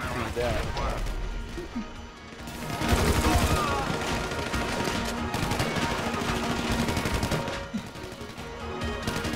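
Grenade launcher blasts and bursts of gunfire in a GTA heist mission, loud, dense and continuous, with people talking over the shooting.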